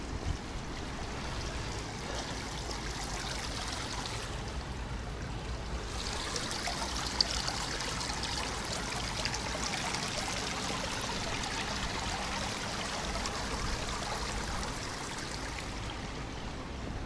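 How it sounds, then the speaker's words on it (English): Water trickles steadily in a Fleet Street alleyway, a faint, continuous running and dribbling sound with no talk over it. "I can hear water."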